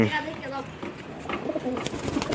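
Soft pigeon cooing repeats close by while a person talks over it throughout.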